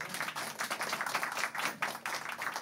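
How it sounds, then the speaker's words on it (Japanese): An audience at a small live concert in Sendai claps warmly between songs, a continuous, lively patter of many hands, close and steady without any voices on top. "拍手が温かすぎますよ皆さん"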